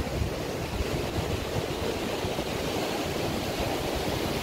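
Kumrat Valley waterfall in Pakistan roaring as a constant dense rush of falling water, loud and broadband, with some wind buffeting on the microphone and no talking.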